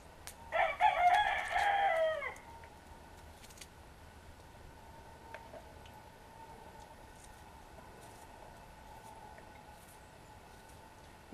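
A rooster crows once outdoors, loud and clear near the start, then the yard falls to a quiet background with faint distant sounds.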